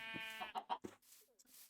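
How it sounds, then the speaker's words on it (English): Minecraft sheep give a short, quiet run of bleats, a few wavering baas one after another with brief gaps, heard alone. "More sheep."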